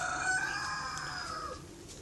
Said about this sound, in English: You can hear the cockerel is still going nuts whenever I'm recording a video.